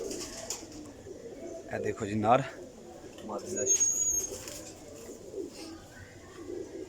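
Pair of Indian Lakha Teddy breeder pigeons cooing softly in repeated low throaty bursts, close by, with someone speaking over and between the calls.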